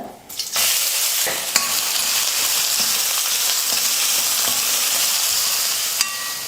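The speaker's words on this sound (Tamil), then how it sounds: "வெங்காயம் நல்லா வதங்கிடுச்சு" Steady, loud sizzling of onions sautéing in a hot pan, with a few stirring clicks and scrapes near the start and end.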